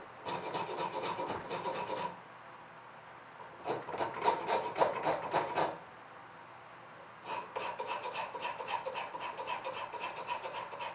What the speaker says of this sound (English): You can file right on down into the tang if you want to take it that far.